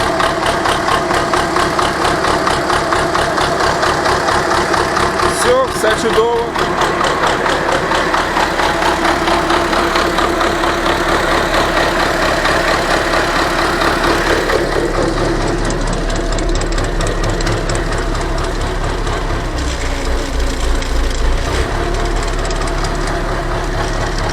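An old MTZ tractor diesel engine idles loudly and steadily for the whole stretch with a rough knocking chug, and someone speaks a few words briefly in Ukrainian over it.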